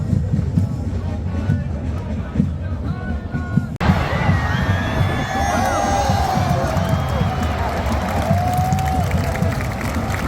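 Thai national football team fans cheer loudly in a large stadium, a dense, continuous crowd roar with shouts and whistles that swells and stays loud throughout, while someone talks over it.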